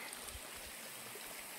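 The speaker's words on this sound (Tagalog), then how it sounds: "Dito kami sa last water source." A mountain stream at the last water source on a hiking trail up Mount Sawtooth, a faint, steady trickle and flow of water heard alone at a distance, with no voices.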